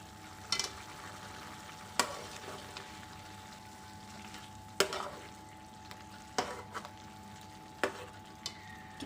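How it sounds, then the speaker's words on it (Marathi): A spatula stirs gravy into spinach chicken cooking in a pan, with soft scraping strokes every second or two over a faint, steady sizzle, close and quiet with no talking. "आता ह्या ग्रेव्हीला आपण छान मिक्स करून घेऊया चिकनमध्ये."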